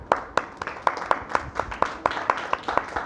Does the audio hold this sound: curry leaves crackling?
no